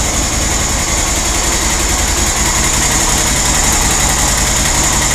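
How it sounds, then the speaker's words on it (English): A QBK Q Link Tour 250 motorcycle engine runs steadily and loudly up close, a continuous even exhaust growl with no clear rev peaks and no talking. "I notice the exhaust note on my son's motorcycle has a little bit of a lower growl than mine does"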